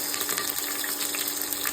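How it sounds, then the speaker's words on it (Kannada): Curry leaves dropped into hot oil and ghee for a quick tomato bath, sizzling and spluttering as a steady dense crackle close up with no talk. "ನಾನು ಇವಾಗ ಕರ್ಬೇವಿನ ಸೊಪ್ಪು ಹಾಕ್ತಾ ಇದ್ದೀನಿ. ಸಿಡಿಯುತ್ತೆ."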